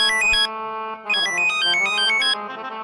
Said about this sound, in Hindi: फोन बज रहा है मेरा।